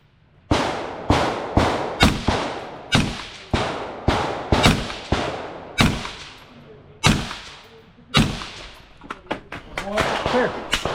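Rapid gunshots ringing on a double Texas Star steel target stage at a two-gun shooting match, about a dozen sharp cracks in uneven bursts, loud and close, each followed by a short decay.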